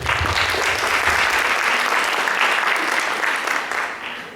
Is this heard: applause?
yes